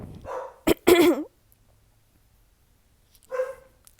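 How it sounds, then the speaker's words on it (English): A pet dog barks a few times nearby in a room, two short sharp bursts early on and another brief one a couple of seconds later, with quiet gaps between. "that's my dog, everyone, sorry."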